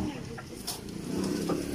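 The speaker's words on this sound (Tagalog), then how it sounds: "Ang alaga niya ay Manok." A chicken clucks softly amid busy background noise, with a few short calls near the microphone.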